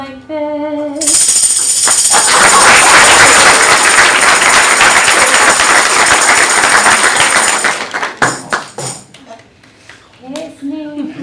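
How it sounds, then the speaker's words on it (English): A tambourine is shaken loudly and continuously for several seconds, its bright jingles forming a dense, steady rattle, performed at a school board of education meeting, with a person talking just before and after. "He plays the tambourine and it sounds like this."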